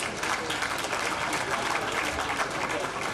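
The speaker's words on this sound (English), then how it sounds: "A round of applause." Sustained round of applause from an audience at a televised official ceremony in Botswana, dense steady clapping filling the whole stretch at even loudness.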